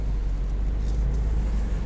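A 2018 Subaru Outback Limited drives off: a steady low engine and road drone is heard from inside the car, with faint, even cabin noise and no talking.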